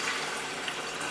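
Water runs into a kettle for tea, a brief steady hiss of filling from a tap, close and unbroken with no talk.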